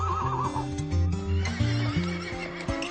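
Horses of a departing horse-drawn carriage neigh repeatedly, with wavering whinnies over a steady clip-clop of hooves and rhythmic harness sounds, close and loud throughout.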